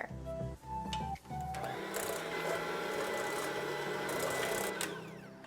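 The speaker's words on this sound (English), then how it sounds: "head on back over to the mixer" Electric mixer whirring steadily through banana bread batter after eggs are added, opening with a few knocks and brief stops, then running continuously at moderate, fairly faint volume.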